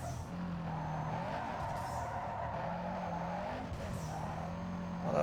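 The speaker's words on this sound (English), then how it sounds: "Whoop, side swipe a little bit and into the wall again." Race car in Need for Speed Underground 2 sideswiping and scraping into a wall, a steady loud engine drone with tonal whine shifting pitch and a brief crunch of contact, continuous throughout.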